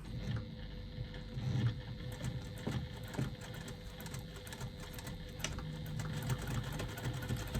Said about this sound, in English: or you can just go ahead and top stitch across it using your machine